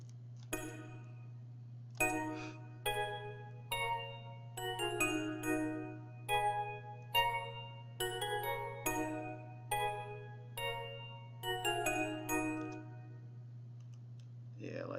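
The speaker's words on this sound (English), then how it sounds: "This is the Winter is Coming bell." Bright synthesized bell notes from the Winter is Coming preset of the Storch VST ring out one at a time in a sparse melodic run, each chime decaying quickly over a steady low hum.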